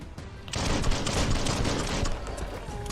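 Rapid bursts of gunfire from the video game Biomutant crackle in a dense, continuous volley lasting a couple of seconds.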